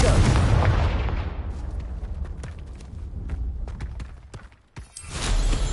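A Confringo fire-blast spell explodes in the video game Hogwarts Legacy, a loud booming burst that rolls off and decays, followed by scattered sharp pops and a second swelling rumble near the end.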